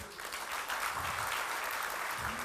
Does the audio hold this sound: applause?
yes